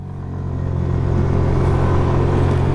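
A 110cc scooter engine (2026 TVS Jupiter 110 or Hero Destini 110) at full throttle drones steadily and builds slightly in loudness, a continuous close rumble with no speech.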